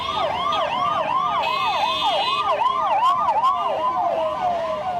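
An ambulance siren wails in a rapid, continuous up-and-down cycle on a city street in Bangalore or Chennai, fairly loud and steady against a low traffic rumble, with no talking.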